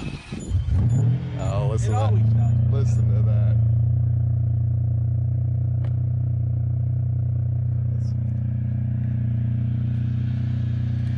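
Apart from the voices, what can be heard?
Ferrari 550 Maranello engine starting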